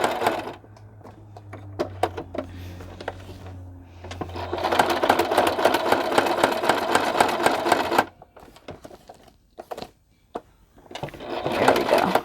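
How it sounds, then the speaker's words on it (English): A sewing machine stitches through postcards in bursts, a fast mechanical rattle running for several seconds, pausing, then starting again, close and fairly loud, with brief clicks between runs. "Yeah, it's sewing now."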